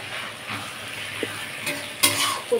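Taro greens cooking with a katla fish head in a pan, giving a soft continuous sizzle with a few light stirring knocks near the end. No one speaks.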